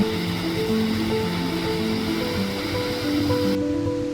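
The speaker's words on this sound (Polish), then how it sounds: "Huk spadającej wody jest ogromny, ale jednocześnie relaksujący" Wielka Siklawa, the highest waterfall in Poland, roars in the Tatra mountains. The rush of falling water is loud, steady and close, with sustained tonal notes layered over it.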